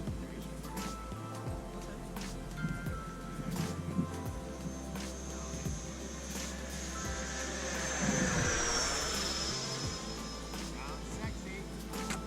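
An FMS Yak-130 model jet makes swooping flying passes, a steady whine that swells and fades at mid distance over continuous rumbling background noise.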